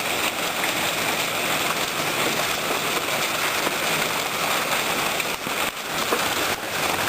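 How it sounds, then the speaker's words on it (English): Hailstorm in Arizona in March, a dense, steady hiss of hailstones pelting surfaces close by, continuous and loud throughout with no talking. "Hailing, baby."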